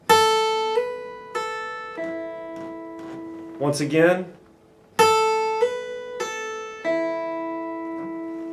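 Slow guitar notes from a song verse ring out clearly, using hammer-ons and pull-offs in distinct, sustained phrases, with a brief spoken interruption in the middle.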